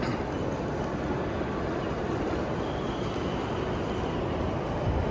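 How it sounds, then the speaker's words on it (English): Steady broadband ambience inside Guangzhou South railway station in China, a continuous low rumble of crowd, movement and distant trains or equipment with faint high tones, no clear voices standing out. "Now I am in Guangzhou railway station, South railway station."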